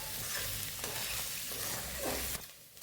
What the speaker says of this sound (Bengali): আমি এখানে সুজিটা দিলাম, দিয়ে এর সঙ্গেই কিছুক্ষণ আমি ভেজে নেব।